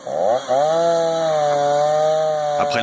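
A chainsaw runs steadily at high revs while cutting into a burning, lightning-struck tree with a dry trunk, a brief dip in engine pitch early on, then a sustained loud whine to the end.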